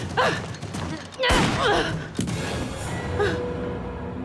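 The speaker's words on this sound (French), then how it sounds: "C'était pas un coup de feu?" A sharp gunshot bangs once, sudden and loud, between breathy gasps and strained vocal sounds.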